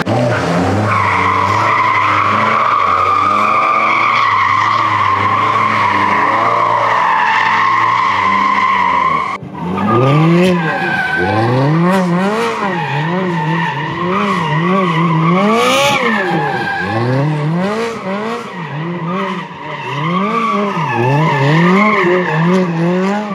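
A Porsche driven hard on a twisty mountain road, its engine loud and close, revving and dropping in repeated swoops through the bends, with tire squeal and no talk.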